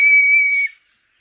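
A single sustained high whistling call from a kite, loud and close, lasting under a second before it fades into silence.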